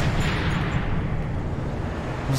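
A loud, rumbling car explosion in Sniper Elite 3 with heavy low-end roar that sustains steadily, dense and close, with no talking.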